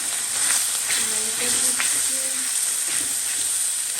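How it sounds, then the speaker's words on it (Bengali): Turmeric and chili frying in oil, a steady bright hiss and sizzle running throughout at close range, with faint clinks and a few soft tonal hums underneath. "তেলে ভেজে নিই"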